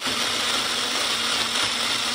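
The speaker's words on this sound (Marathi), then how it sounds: "त्यात मसाला घातलेला मी त्याला मिक्सरमध्ये बारीक करून घेते" A mixer grinder whirs loudly and steadily as it grinds masala fine for shahi paneer, a continuous close-up motor roar with no pauses.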